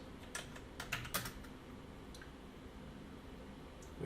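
Commands are typed on a computer keyboard during a Cisco CCNA networking lab, with a quick cluster of soft, close keystrokes near the start and a few scattered taps after it, over a quiet background hum.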